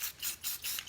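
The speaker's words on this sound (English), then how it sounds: "I took the gold and I'm gonna spray that" Gold spray paint hisses from a can onto a patina horse head sculpture in four short, close bursts with brief gaps.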